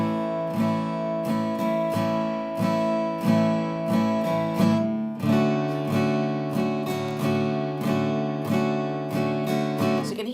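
Acoustic guitar strumming chords for a song in a down-down-down-up-down pattern, with a quick upstrum between beats three and four, repeating steadily and close with no talking.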